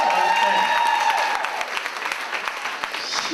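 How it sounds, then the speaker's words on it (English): A comedy club audience in Philadelphia claps and applauds in a steady wash of crowd noise, with a voice talking over it at the start. "Can I get a little more clap in this room?"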